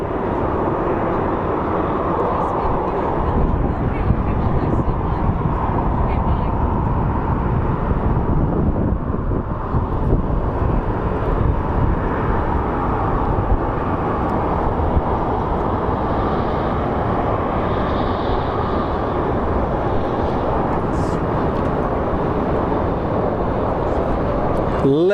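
A passenger airplane landing at Phoenix Sky Harbor International Airport, heard as a loud, steady roar of engines and rushing air that carries on unbroken, with wind buffeting the microphone throughout.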